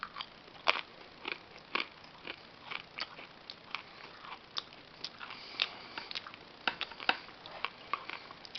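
Stale crackers from a Ukrainian ration pack are bitten and chewed, giving a string of dry, crisp crunches in an irregular rhythm, close and fairly quiet with no talking.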